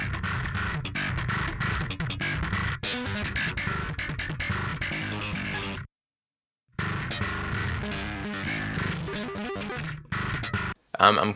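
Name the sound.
distorted bass guitar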